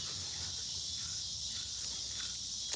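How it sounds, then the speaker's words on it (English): Cicadas shrill continuously around a rural homestead, a thick, even high buzz that stays constant throughout, with a faint brief knock near the end. "can y'all hear the cicadas yet?"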